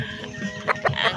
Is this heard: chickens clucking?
yes